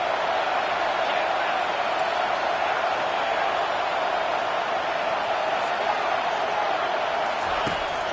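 A stadium crowd in an NCAA college football video game roars in a dense, continuous wash of cheering that holds steady at high volume throughout.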